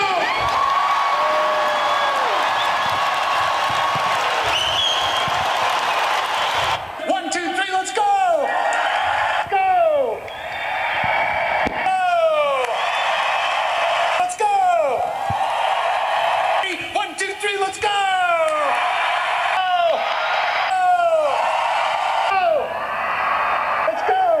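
A recorded arena crowd of some 30,000 at the Georgia Dome roars and cheers in loud surging waves, with a voice speaking over it at the start and shouted call-and-response bursts woven through.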